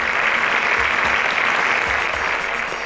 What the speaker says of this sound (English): A round of applause to Darasimi.